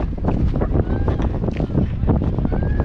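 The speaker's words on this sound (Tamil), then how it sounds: "காற்று பயங்கரமாக" Strong, gusty wind buffets the microphone on an open hill trek up Kannagi Hills, a loud continuous roar with rising and falling blasts and no break.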